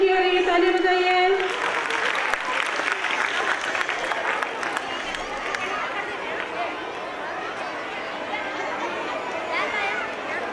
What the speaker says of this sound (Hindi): तालियां बजाइए जोर से, जोर से।